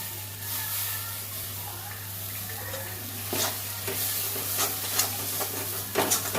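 Spiced vegetable filling for kachori sizzles and is stirred dry in a hot pan, a steady frying hiss with scraping spatula strokes growing busier toward the end over a low background hum.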